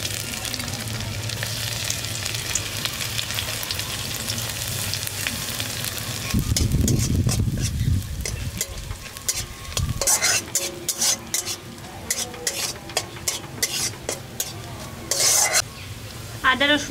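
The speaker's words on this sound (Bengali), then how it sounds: "আদা রসুনগুলো দিয়ে দেওয়ার পর এটাকে হালকা ভেজে নিয়েছি যাতে এর ফ্লেভারগুলো খুব ভালো করে ঢুকে যায়" Chopped ginger and garlic sizzle in hot oil in a pan for dal tadka, a steady close frying hiss broken by stirring scrapes and clinks of a utensil against the pan.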